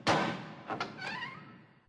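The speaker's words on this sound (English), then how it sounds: "A butler opened a heavy wooden door." A heavy wooden door opens with a sharp thunk from the latch, then a couple of dull knocks followed by a long creaking groan of the hinges, close and clear, with nothing else heard.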